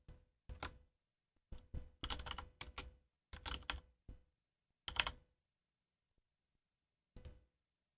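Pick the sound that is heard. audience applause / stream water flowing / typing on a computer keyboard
typing on a computer keyboard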